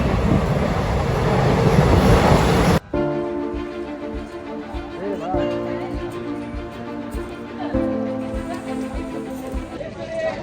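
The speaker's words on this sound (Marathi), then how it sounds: "ट्रेनचा आवाज भरपूर आहे" A loud, rushing rumble of a train on the rails fills the opening seconds, then cuts to quieter steady tones with voices over it.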